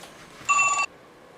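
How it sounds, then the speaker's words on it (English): A telephone rings once in a short, clear electronic burst of bright tones, near and alone against faint room hiss, in a workshop setting where a propane heater is being modified. "Alright, sorry about that phone call."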